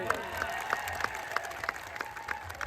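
Crowd applause at a rally celebrating Birsa Munda's 150th birth anniversary, a steady dense clapping from many hands that carries on at a moderate distance, with voices faintly underneath.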